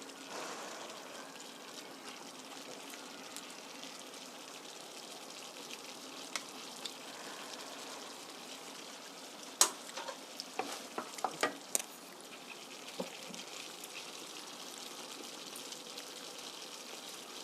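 Fusilli in tomato sauce stirred in a pan, quiet continuous sizzle with soft scraping and a few louder spoon knocks near the middle.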